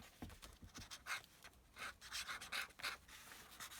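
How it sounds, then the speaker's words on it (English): A Conklin fountain pen nib lacking iridium scratches across paper, a faint, close, raspy rubbing in short irregular strokes with brief pauses between them. "That's the sound of a pen that doesn't seem to have any iridium on it."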